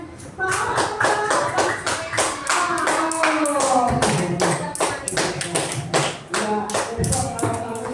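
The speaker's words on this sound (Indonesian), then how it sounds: "Yuk, beri tepuk tangan untuk Mas Aska dan" Group of children in a classroom clapping for a classmate, brisk uneven hand claps close by, with some shuffling and a voice over the clapping.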